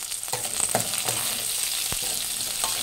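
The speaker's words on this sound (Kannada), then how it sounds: "ಫ್ರೆಂಡ್ಸ್ ಮೀಡಿಯಂ ಫ್ಲೇಮಲ್ಲಿ ಇಟ್ಟು ಫ್ರೈ ಮಾಡಿ" Half a tablespoon of cumin and dried red chillies frying in a pan on medium flame for holige saaru, a constant close sizzle with intermittent scrapes and taps of a stirring spoon, no speech.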